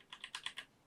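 A computer keyboard is being typed on, with five or six crisp key clicks in an uneven quick rhythm, heard close and alone with no talk.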